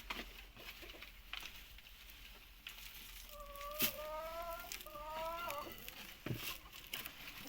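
Chickens and roosters in small coops on a rooftop mini poultry farm give faint, scattered clucks and a short run of higher rising calls midway, heard at a distance over a quiet background.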